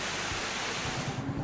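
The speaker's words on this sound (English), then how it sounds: "It just looks magical with the sprays of water cascading over the rocks" Water of Sinulog Falls in Cebu cascading over rocks, a steady broadband rush close by with a few low thumps of spray, thinning out near the end.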